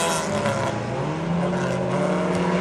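Hornet-class race cars roar around Princeton Speedway in a steady, loud engine drone, several cars racing side by side down the back straightaway with rising and falling pitch as they accelerate.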